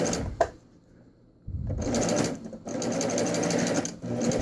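A sewing machine with a ruffler foot runs in bursts, stopping and starting, with a repetitive mechanical clunking rattle from a worn knife close by and no voices.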